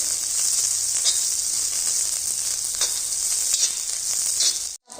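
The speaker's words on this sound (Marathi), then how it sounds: "मध्यम गॅसवरती चांगलं तेलामध्ये फ्राय करून घ्यायची मिरची" Green chillies and garlic fry in oil over medium heat, giving a steady, loud sizzle with occasional crackles and stirring sounds throughout, close up and without speech, cutting off abruptly at the end.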